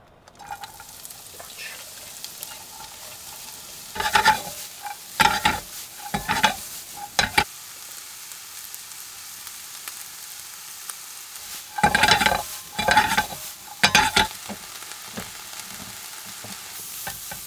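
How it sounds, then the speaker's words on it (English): Vegetables sauteing in a pan at a truck-cabin campsite, with clustered bursts of stirring and scraping around four to seven seconds and again near twelve to fourteen seconds, over a low steady background hiss. "Once that's all nice and sauteed, a little bit of char on there, a little bit of crispiness"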